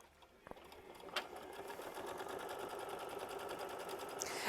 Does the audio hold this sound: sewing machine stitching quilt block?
yes